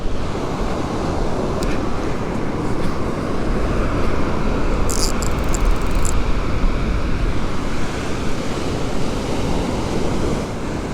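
Ocean surf on a sandy beach with an incoming tide makes a continuous, loud wash of breaking waves, mixed with gusts of wind buffeting the microphone throughout.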